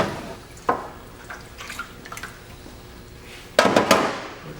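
Developed photographic film rinsed under running water, with soft trickling and dripping punctuated by a few sharp splashes and clatters, the loudest burst near the end.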